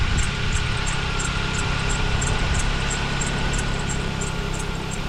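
A 2006-2010 Kia Optima engine idles steadily after radiator replacement, a constant close hum with a faint high ticking pattern and no talk.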